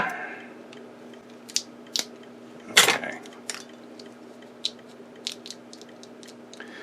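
Scissors snip split loom tubing while a Singer 201-2 potted motor is being wired, with several sharp close clicks and one louder crunching cut near the middle and a brief spoken word.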